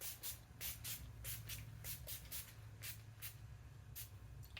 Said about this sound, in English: I'm just gonna go in with some setting spray.